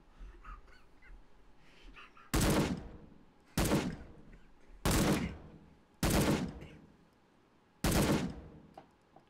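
Five loud, evenly spaced gunshots, one roughly every 1.3 seconds, attributed to an AK-47 rifle, each a sharp crack with a decaying tail over a faint background.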